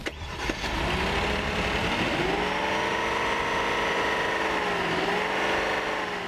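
The 5-litre V8 of a 2015 Kia K900 runs steadily and fairly loud, its note rising and dipping slightly as revs shift over about six seconds, with no voices over it.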